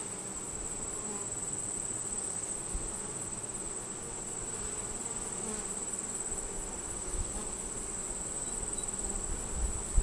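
A dense swarm of agitated honey bees hums around an open hive under inspection as smoke blows, the steady buzz filling the air close and constant with no talk.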